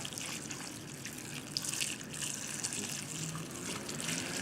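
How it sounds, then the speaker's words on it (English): Hot vinegar pickling liquid pours over sliced cucumbers and onions, a steady splashing, trickling stream of liquid, close and continuous throughout, with faint background noise. "I'm going to pour it over the top of the cucumbers."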